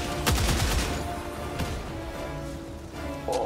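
Rapid gunfire in the Helldivers 2 video game as players shoot at an Automaton robot, a dense burst of shots at the start, then scattered firing and game noise, with a sharper sound near the end.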